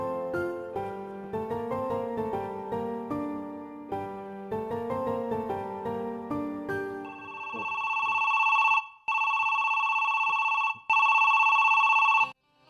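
An outgoing phone call in a Bangla drama, starting with a melodic ringtone of repeating stepped tones and then changing to a steady, loud two-tone ringback with brief gaps near the end.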